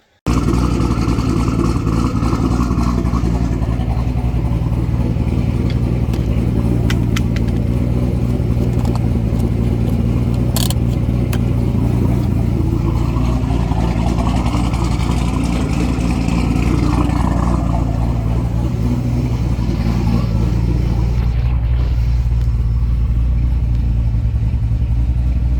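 A twin-turbo C6 Z06 running E85 on drag tires drives along, its engine a steady loud low rumble with mild swells of throttle throughout, no talk.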